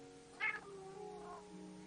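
A house cat named Sean lets out a single short meow, fairly close but soft, followed by a fainter drawn-out murmur against a quiet background.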